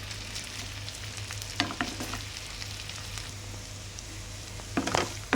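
Raw prawns fry in a covered pan on low heat with a steady, soft sizzle over a low hum, broken by a few clattering stirs and knocks near the start and the end.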